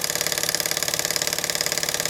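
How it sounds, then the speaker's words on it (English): A Meccano model engine drives a half-inch pulley on a slightly wonky axle, making a fast, steady mechanical chugging and rattling hum, close and continuous with no voices. "There's the engine driving the 1/2 inch pulley on a slightly wonky axle."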